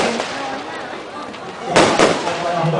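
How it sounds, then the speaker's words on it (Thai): Fireworks set off at a football team's player launch event, with a couple of sharp bursts and pops standing out over crowd noise and talk amid a constant outdoor din. "การจุดพลุของเรานะครับก็ใกล้จะสรุปลงแล้วนะครับ"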